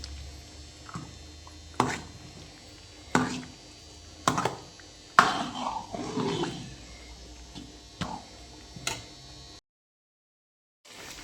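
Cashew paneer curry stirred in a pan, with a spoon knocking and scraping in irregular sharp taps a second or so apart, followed by a soft wet squish and then a brief silence at the end.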